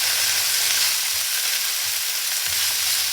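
Food fries in a pan with a loud, dense, continuous sizzle, heard up close and steady for about three seconds, with no voices.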